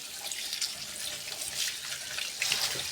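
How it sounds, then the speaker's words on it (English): Water runs from a tap over food being washed in a sink, a steady bright splashing hiss with small surges as the stream is disturbed, close and alone without talk. "I'm going to wash with running water."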